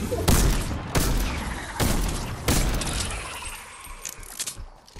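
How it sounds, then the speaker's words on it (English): Gunshots fired at zombies in a video game, four loud, sharp blasts spaced under a second apart, then quieter scattered clicks and softer shots as the firing tails off. "it's me shooting zombies"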